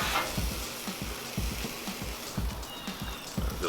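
Porterhouse pork chops sizzling on an uncovered Weber kettle grill, a steady close crackle and hiss of fat with soft regular thumps roughly once a second.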